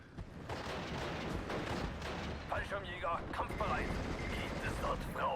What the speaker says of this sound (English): I didn't actually expect to come up against this much artillery early on